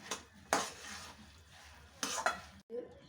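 Puffed rice being stirred in a pan for chikki, dry scraping and rustling strokes with a couple of louder clanks against the pan, near and fairly quiet, no talking.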